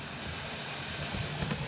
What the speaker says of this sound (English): my canner had a steady stream of steam for about a minute